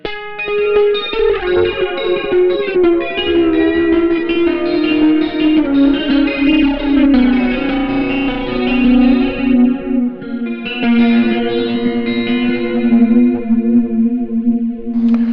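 A Silvertone 1478 electric guitar through a Caline Lorcan amp, chorus-tinged and slightly distorted, holds notes while a vibrato bar bends the pitch down and back up in slow, wavering sweeps.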